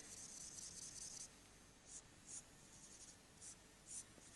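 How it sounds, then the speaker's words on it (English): Pen drawing a picture on paper, quick scratchy strokes close by, a continuous stretch and then short separate bursts, faint and alone. "So I draw a picture to represent myself."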